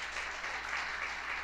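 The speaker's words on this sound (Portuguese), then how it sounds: "Vamos aplaudir o Senhor por cada vida que está aqui." A church congregation applauding, a soft, even wash of clapping heard from a distance, faint and continuous without any speech.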